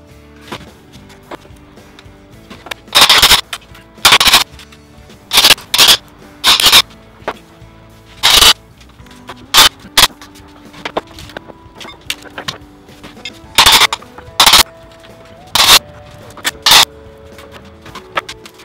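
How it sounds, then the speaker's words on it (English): A wooden pallet is pried apart in a run of loud, sharp cracks and thumps at irregular intervals, each burst brief and close, with quieter scraping and creaking between them. "it's time for me and my trusty partner to take this pallet apart"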